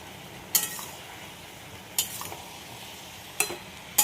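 Prawns tipped into a pan of frying vegetables for a Bengali prawn and Malabar spinach stew, with three or four sharp clatters of a utensil against the pan over a quiet, steady sizzle.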